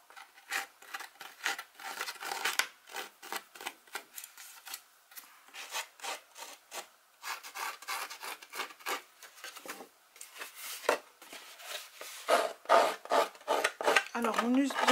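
Repeated rasping scrapes of scissor blades dragged along paper edges, in uneven bursts close to the listener, with a brief tearing sound near the end.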